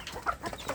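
Young free-range village chicks at a farm in Umbaran, about two months old, cluck and peep softly in a few short, faint calls close by, with no talking.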